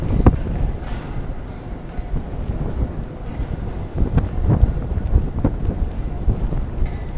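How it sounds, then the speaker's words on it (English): Strong typhoon wind battering the microphone in a city, a continuous heavy roar with gusty surges and buffeting thumps, close and loud, with no talking. "Wind is picking up. It is getting very heavy."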